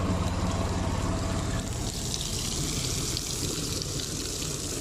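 Bordeaux mixture is stirred and poured into a tractor sprayer tank, a steady close gush of liquid with churning and splashing that holds for the whole stretch, no voices.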